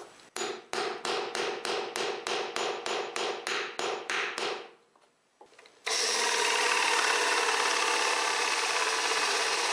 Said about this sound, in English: I'm spinning it while tapping it with a hammer in order to mark the center location of that hole.